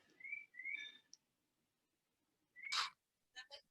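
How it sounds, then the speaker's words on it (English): Loud bird calls from outdoors: a pair of rising whistled notes, a pause, then a harsh burst and two short sharp chirps, close and with no talking over them. "what bird is calling, I don't know, but it's here every day and it's very loud"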